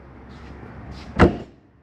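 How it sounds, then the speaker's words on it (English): The exterior door of a 2020 Sierra 3550FL RV swings shut with a single solid thud after a brief quiet shuffle, close and distinct, then fades quickly. "And close your exterior door."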